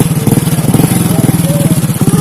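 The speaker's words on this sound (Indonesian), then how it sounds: "Kita akan naik motor." Motorcycle engine running steadily up close with a pulsing mid-range drone, carrying riders including small children; engine noise fills the clip continuously.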